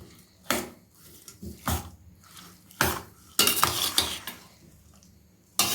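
Vegetables for a kurma being mixed with salt and masala, a series of separate clinking and scraping stirs against a metal bowl with quiet gaps between them and a soft wet squish.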